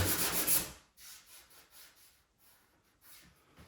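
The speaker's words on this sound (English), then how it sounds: "I can go ahead and sand this whole top again with this" A brief burst of loud sanding is followed by quieter, rhythmic rubbing strokes across the wooden top of a mid-century modern dresser.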